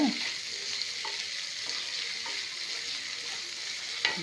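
Carrot and potato curry fries in a pan with a steady hiss. Occasional soft taps and scrapes come from the stirring spoon, close and alone, with no talking.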